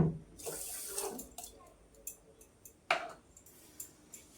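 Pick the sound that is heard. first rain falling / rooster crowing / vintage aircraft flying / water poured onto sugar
water poured onto sugar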